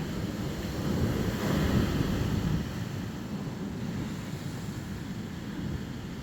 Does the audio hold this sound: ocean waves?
yes